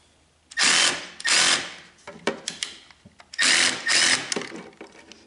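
A power drill runs in short bursts while driving screws into an Ariens snow blower, with two long whirring runs, a cluster of brief clicks and taps, then two more runs, close and loud.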